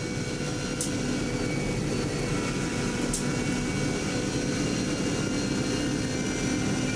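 A loud, continuous racing motorcycle engine roars at high revs on the Isle of Man TT course, a dense steady snarl that stays near and constant throughout, with no voices.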